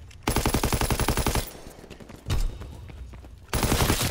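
Rapid automatic gunfire in the World War II shooter game Call of Duty: WWII, with sustained loud bursts broken by a short pause and a heavy blast before firing resumes.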